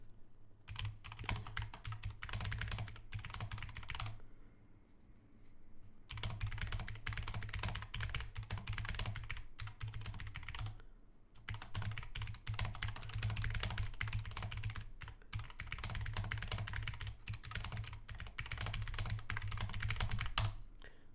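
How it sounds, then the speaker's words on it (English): A secretary types on a computer keyboard nearby, a steady rapid clatter of keystrokes running for about twenty seconds with a few short pauses, heard faintly over a low background hum and with no talking. "I have secretary typing. You could probably hear it without me even putting it on."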